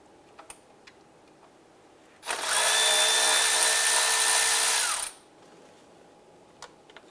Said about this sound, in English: Using a 12mm socket, let's go ahead and loosen and remove that nut